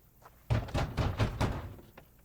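A fist banging on a heavy wooden castle gate in the medieval role-playing game Kingdom Come: Deliverance II, about five loud, close, dull thuds in quick succession after a quiet start.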